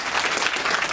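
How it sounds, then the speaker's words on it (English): An audience applauds, a dense, loud, continuous clapping that fills the whole short moment. "Round of applause."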